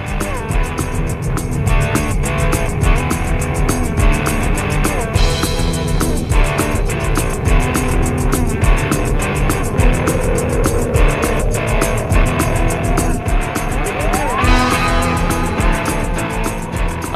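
Dense, continuous roaring engine effect for a cartoon spaceship at maximum acceleration, layered with rhythmic pulsing and a rising whine toward the end, loud throughout.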